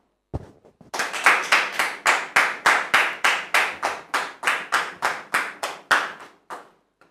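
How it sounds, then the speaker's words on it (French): A sparse handful of people clap on a TV talk show set, sounding like a single close pair of hands beating a brisk, even rhythm of sharp claps in bursts, starting after a faint knock and stopping abruptly. "Merci de recevoir notre visiteur sous vos applaudissements"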